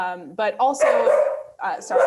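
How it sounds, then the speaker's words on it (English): A pet dog barks indoors during an online talk, a few sharp yaps mixed in with a man's speech, fairly close and loud against the voice. "that's my dog"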